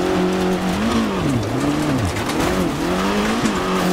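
A Peugeot 205 GTI rally car in Dirt Rally 2.0 races a tarmac stage in Monaro, Australia, its engine revving up and down through gear changes with tyre squeal, loud and close, with no voices.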